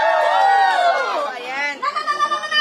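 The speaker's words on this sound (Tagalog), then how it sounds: "Isang hiyawan naman dyan!" Festival crowd at a gong festival cheering and shouting together, a loud sustained mass of voices that swells then breaks into scattered whoops.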